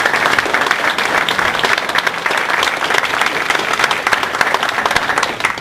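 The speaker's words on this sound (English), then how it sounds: "So give yourselves a round of applause" Crowd at a Republican county dinner gives loud, sustained applause, many hands clapping in a thick continuous roar with sharper individual claps poking through, close and unbroken by talk.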